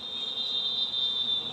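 Honey bees buzz around a managed beehive during honey harvesting, a steady high drone holding throughout at moderate loudness with no speech over it.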